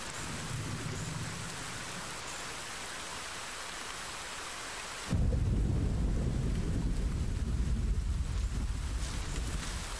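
Rain pours heavily with rolling thunder in the video game The Pillars of the Earth; a lighter downpour hiss suddenly gives way to a much louder, deeper rumbling storm halfway through.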